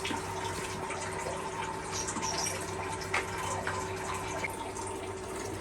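Water in a pot on a stove comes to a boil with a steady bubbling, churning sound under a faint hum, at a moderate level with no talking.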